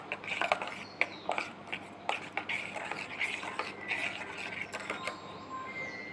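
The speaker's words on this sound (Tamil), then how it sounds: "அப்புறம் நல்லா கலக்கிக்கோங்க." A spoon stirs homemade pear juice in a glass, producing light rhythmic clinks and scraping swirls, close and fairly quiet, with a faint steady hum underneath.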